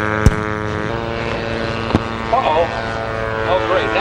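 Ultralight aircraft making a high-speed pass at an air show, its engine giving a steady buzzing drone beneath a few sharp knocks, with a person briefly talking over it.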